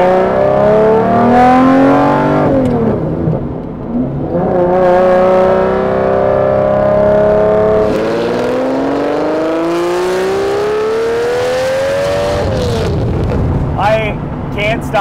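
A Lamborghini Diablo SV Monterey engine revs toward 8000 rpm, loud and close, rising in long sweeping pulls through shifts with throttle lifts between them.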